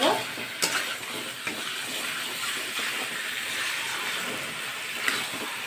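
Chicken sautés in a pan with a bright, steady sizzle and occasional scraping stirs and clinks, close and even throughout, with no one speaking.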